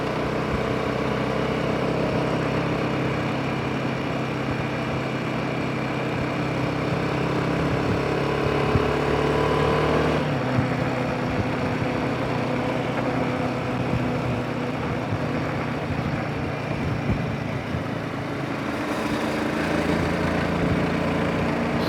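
A Royal Enfield Himalayan 450 motorcycle cruising in fifth gear, its engine droning steadily and continuously close by, mixed with wind rush, with no talking.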